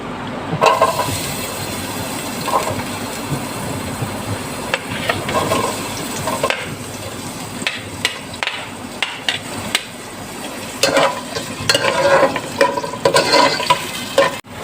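Chopped onions hit hot oil in a pan and sizzle loudly and continuously, with stirring clatters and scrapes of a utensil punctuating the frying for an aloo bhujia potato curry.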